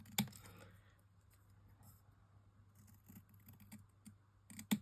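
Scissors cut card along an embossed die edge with soft, close snips and rustles, and sharper clicks at the start and end, set against a low room hum.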